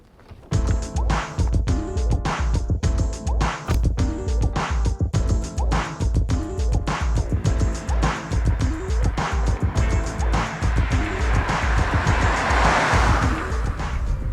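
A pearlescent white 1988 Audi Quattro with a little over 200 bhp drives hard, its engine a loud, close, pulsing roar with rapid rhythmic surges that swell into a broader rush near the end.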